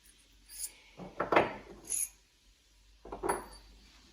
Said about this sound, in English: In the place where screw will touch these handles, I am cutting flat